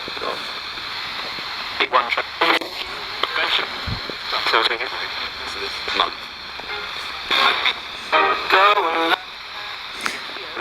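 Radio static and hiss with snippets of voices and tones flickering in and out as if tuning across stations, fairly loud and choppy.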